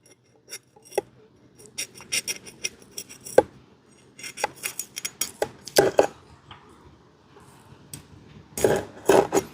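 Scissors snip the fins of a vanjaram fish being prepared for grilling on coals, producing close, sharp irregular clicks and crunches in scattered bursts, with a dense cluster of cuts near the end.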